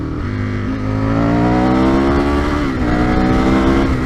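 An Aprilia RSV 1000 motorcycle with no quick shifter pulling hard, its engine note climbing loud and close through the gears with a brief dip at a shift, strong rising harmonics.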